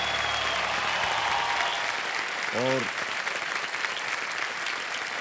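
A television quiz show audience applauds a contestant who has just won 12,50,000 rupees, a loud, continuous burst of clapping with a brief spoken word rising over it midway.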